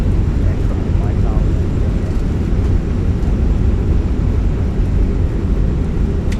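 An Airbus A320 lands with thrust reversers deployed in a flight simulator game, producing a continuous loud, dense engine and rollout roar with a voice talking over it.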